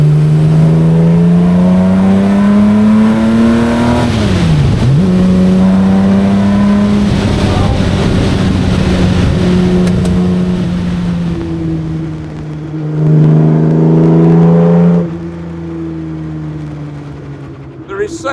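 Classic racing car engine on a circuit, loud and close, revving hard through rising and falling gear-change sweeps, with a dip and a fresh surge of acceleration later on.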